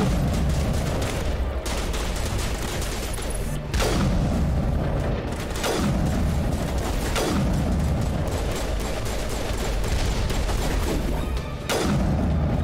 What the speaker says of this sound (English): I like the sniper rifle.